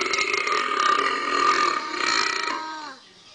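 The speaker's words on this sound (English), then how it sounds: "You want Shrek to burp now?" A toy Shrek ogre burping game lets out one long, loud, gurgling belch that rumbles on for about three seconds before trailing off, with no talking over it.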